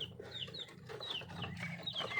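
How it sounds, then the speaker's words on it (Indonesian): Young Bangkok chickens cluck and peep in quick, overlapping short calls, close and moderately loud, against a steady low background hum. "Ini saya melihara ayam bangkok masih kecil teman-teman"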